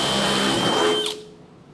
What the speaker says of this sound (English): So I can go ahead and drill this first one.